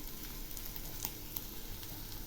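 Fish fry batter with chili powder, sugar and chopped coriander leaves frying in hot oil, a continuous soft sizzle with a few crackling pops and no talking.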